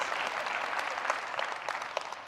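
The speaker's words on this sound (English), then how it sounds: "And sure, we can clap at that, yeah." Audience applause fills a hall during a presidential acceptance speech at a GMA event, steady dense clapping with scattered sharper claps, moderately loud and without talk over it.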